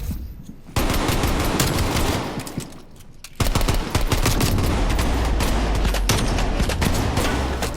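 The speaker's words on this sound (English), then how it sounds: "I was shooting through you." Dense, loud automatic gunfire from Call of Duty: Black Ops Cold War rattles in sustained bursts with brief gaps, close and harsh throughout.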